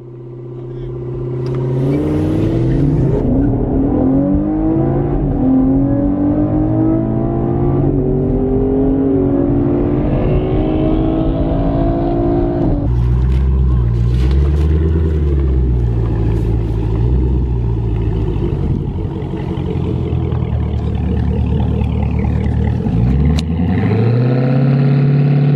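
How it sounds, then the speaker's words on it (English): A 2019 Camaro 1LT V6 and a 2018 Scat Pack 392 launch from a dig, with loud engines revving and rising through the gears for a sustained stretch, one short break in pitch near the midpoint, and voices talking over the roar. "Completely normal, just, we're gonna see, bro. V6 Camaro versus Scatpack,"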